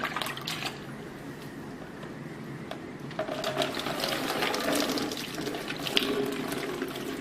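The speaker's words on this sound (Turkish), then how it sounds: "Ve saçına suyunu döküyoruz şu anda ilk suyu." Water is poured over the hair of a bedridden patient, a soft running and splashing flow that grows fuller partway through, close by with no talking.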